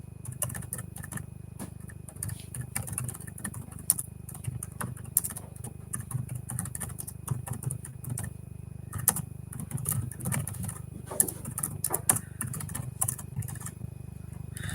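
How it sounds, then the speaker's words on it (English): Rapid clicking keystrokes on a computer keyboard, irregular bursts of close taps with brief pauses, over a low background hum. "Just typing up in the poll."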